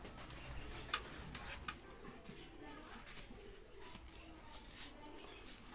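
Grey pigeons in a loft, with soft wing flaps and faint cooing amid steady low background noise and occasional ticks.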